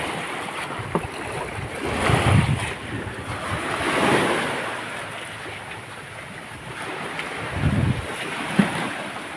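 Big sea waves at high tide surge and break in broad swells, with steady wind rumbling across the microphone throughout; no voices.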